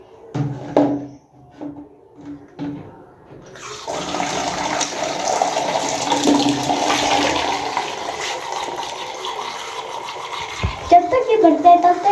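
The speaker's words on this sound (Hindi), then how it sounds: "फिर मास्टर के जार में पानी डाल देता हूँ" Water poured into a pet's jar at home, a steady close rush lasting about seven seconds after a few light knocks, then trailing off into splashy clinks.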